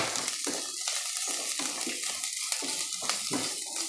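Grated coconut with kallippu roasting in a pan for chutney, a steady dry sizzle broken by repeated scraping stirs of a spoon against the metal, close and moderately loud with no talking.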